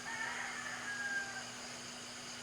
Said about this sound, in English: If you hear in the background there, that one rooster crowing is Mr. Long.